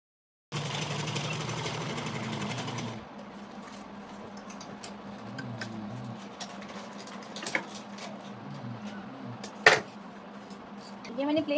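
A sewing machine stitches a salwar in a fast, loud whirring run that stops abruptly, followed by quieter clicks and handling noises with a sharp knock near the end.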